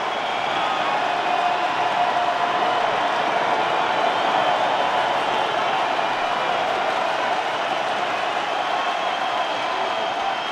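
A college football stadium crowd stands and roars on second down, Middle Tennessee Blue Raiders against the Miami Hurricanes, a dense, steady wall of cheering that stays loud and unbroken throughout.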